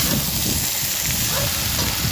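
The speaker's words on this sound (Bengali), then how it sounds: "হালকা হাতে নাড়াচাড়া করে নেব, যাতে পেঁয়াজ আর তেলের সাথে ভালো করে পুঁইশাকটা মিশে যায়" Malabar spinach stirred with onion in hot oil, a loud, dense, unbroken hiss of frying heard up close throughout.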